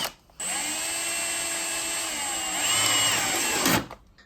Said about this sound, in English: also drill the holes for the winglet